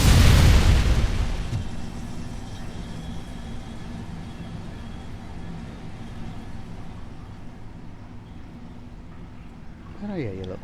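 Frag grenade blast in the Robocop Rogue City video game, a loud booming burst at the start that decays into a long rumbling tail with lingering debris and ambient game noise.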